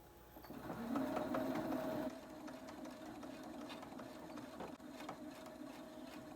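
A sewing machine runs steadily as it stitches a quarter-inch seam across face mask fabric, with a louder burst of whirring at the start and a continuous mechanical hum with light ticking after it.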